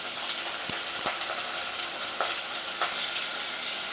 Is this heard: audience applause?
no